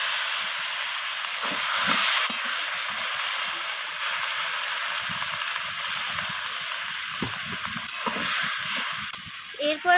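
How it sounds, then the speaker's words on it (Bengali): Water poured into a hot pan of sizzling spices and a Vetki fish head sets off a loud, continuous hiss with bubbling, spitting bursts and occasional stirring knocks underneath. "এখন আমি এখানে সব কিছু সিদ্ধ হওয়ার জন্য সামান্য পরিমাণ জল অ্যাড করে দেবো"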